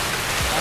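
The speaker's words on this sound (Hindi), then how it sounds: "अब बारिश इतनी ज़ोरों से चालू हो गई, अब पता नहीं कब तक रुकना पड़ेगा।" Heavy rain pours steadily during an outdoor walk, a dense, continuous hiss filling the clip at close range with no break in the downpour.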